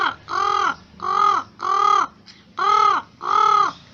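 A person imitates a crow's caw as a solo talent-show animal sound: five loud, harsh caws in a steady rhythm, close to the microphone, with short pauses between them and no talking.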